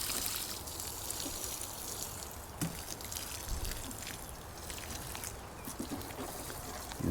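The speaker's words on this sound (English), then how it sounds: "A bit of water on these beans." Water pours steadily onto bean plants in a garden, a soft continuous outdoor splash and trickle with a few faint knocks, no talking.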